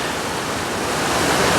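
A rushing river current in jaguar country pours past in a loud, steady broadband roar, close and continuous with no voices.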